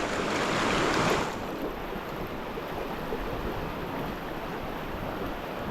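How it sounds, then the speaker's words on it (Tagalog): Strong current of flood water rushing in a steady, loud broadband roar, a little louder for the first second and then constant, with no voices. "Aba, pagkalakas pa ng agos, kahit po malinaw."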